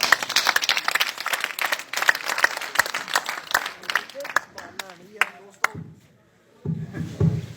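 An audience at a comedy compering and prize-giving event claps and applauds in a dense burst that thins out, briefly falls quiet, then swells again near the end.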